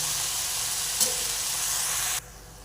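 A grass vegetable dish with chili sizzles steadily in a pan as it is stirred and turned over. The loud, continuous frying hiss cuts off abruptly near the end.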